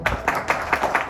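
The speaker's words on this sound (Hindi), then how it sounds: "नंबर 3 सब अपने लिए तालियां बजाओ" Students in a classroom clap for themselves in a quick rhythmic pattern of distinct, evenly spaced claps, moderately loud and close.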